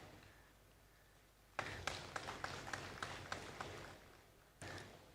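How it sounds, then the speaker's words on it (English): Scattered clapping from an audience at a port authority's foundation day event, a few distinct claps building into light, sparse applause that fades after a few seconds, heard faintly in a large hall. "we all join hands together to applaud and appreciate"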